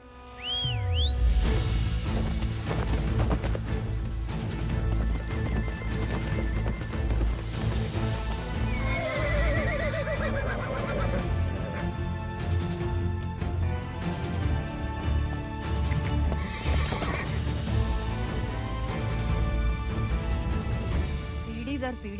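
A horse neighs and its hooves clip-clop among other movie sounds, with voices talking throughout.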